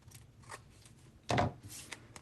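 Scissors snip off excess paper scraps while building a herringbone paper background; one short, close cutting burst stands out amid faint paper rustles and handling noise.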